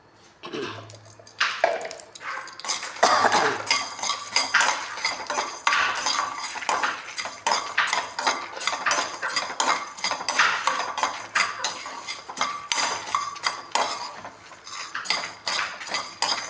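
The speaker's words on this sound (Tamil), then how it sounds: "இதை நல்லா ரொம்ப காந்தாமல் சிறக்க வறுத்துக்கலாம்." Coriander seeds dry-roasting in a pan with a little oil for a thovaiyal, stirred with a metal spoon that scrapes and clinks in quick repeated strokes, close and fairly faint, with no speech.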